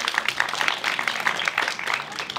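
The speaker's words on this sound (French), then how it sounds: "On peut applaudir très fort." A live show audience in Avignon claps loudly, a dense patter of many hands with uneven bursts of strong clapping that runs continuously for a couple of seconds, close and lively.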